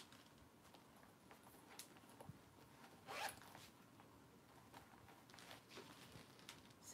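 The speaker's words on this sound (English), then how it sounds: "Zipper pocket there." A zipper on the pocket of a thrifted handbag with tan Saffiano leather lining, drawn in several short, quiet, close-up pulls, with one sharper zip in the middle.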